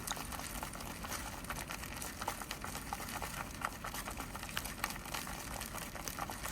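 Soft, sticky crackling and patter, a quiet continuous wet clicking as natto, sticky fermented Japanese soybeans, is stirred close by, with no voices.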